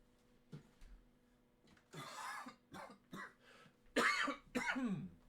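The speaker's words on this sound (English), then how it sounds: "Apparently, the last couple days I've had a bit of a cough." A person coughs several times in quiet surroundings, first with short throat-clearing hacks, then a run of harsher, louder coughs near the end.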